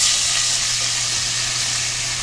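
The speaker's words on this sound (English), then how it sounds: "Big splash of wine. We're gonna scrape the bottom." Wine hits a hot pan used for chicken thighs and sizzles steadily, a loud, even frying hiss that holds alone for a couple of seconds with no talk.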